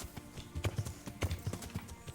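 Horse hooves clip-clop in the video game Kingdom Come Deliverance, a quiet, uneven run of hoof thuds on the ground with no talking over them.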